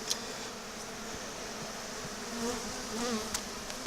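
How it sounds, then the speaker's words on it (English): Honeybees hum steadily around an open hive during an inspection, a close, continuous insect buzz with individual bees swelling louder as they pass near, no talking. "Just a couple bees bumping me here and there."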